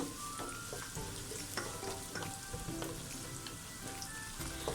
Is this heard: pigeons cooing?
no